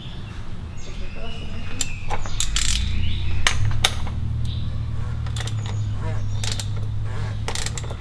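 A tool turning the oil filter housing cap on a BMW M4 F82 / M3 F80 during an oil change, with ratcheting clicks and creaking plastic over a low mechanical hum, close and fairly loud.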